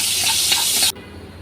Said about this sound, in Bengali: আবারও সয়াবিন তেল দিয়ে দিয়েছি কড়াইতে আর এখন হচ্ছে আমি শুকনো মরিচ আর হচ্ছে কালো জিরা দিয়ে দিলাম